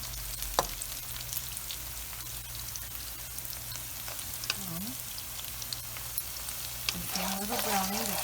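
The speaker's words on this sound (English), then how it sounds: "But since we have the time, we are browning it up ourselves." Chicken mince browning in a pan for homemade chicken keema, a quiet steady sizzle with occasional light scraping and stirring clicks, faint and close, and brief murmurs of voice near the end.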